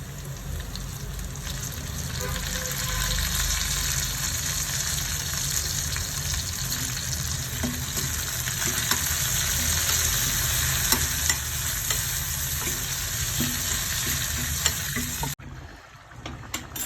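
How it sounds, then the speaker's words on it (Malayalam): Dried red chilies and curry leaves frying in hot oil for an Angamaly-style mango curry, a steady close sizzle with stirring scrapes throughout, ending abruptly near the close. "വറ്റൽമുളക് ഇട്ട് കൊടുക്കാം കറിവേപ്പിലയും കൂടെ ചേർത്ത് കൊടുക്കാം"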